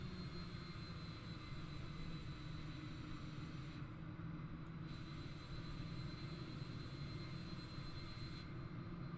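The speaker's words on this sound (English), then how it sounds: "Cleared for takeoff runway 10 Boeing Alpha Sierra X-ray 787" Boeing 787 jet in Microsoft Flight Simulator on the runway at Princess Juliana beside Maho Beach, its engines giving a steady, loud broadband roar with a droning low hum that holds evenly throughout, with no talk.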